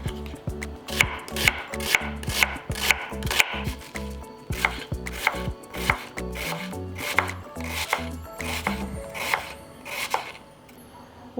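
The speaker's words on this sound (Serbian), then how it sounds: "iseckat ću jednu glavicu crnog luka sitno" A knife finely chopping an onion on a board, sharp rhythmic cuts in quick bursts, close and clear, slowing toward the end with no talk over it.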